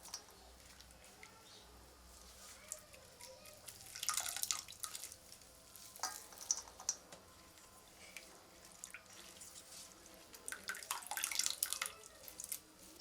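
Water drips and trickles as ground banana flower is squeezed by hand, in soft irregular bursts with a louder spell near the middle and another toward the end.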